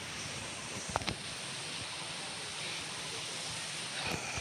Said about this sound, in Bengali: আজকে কিন্তু সারাদিন খুব সুন্দর হাওয়া দিচ্ছে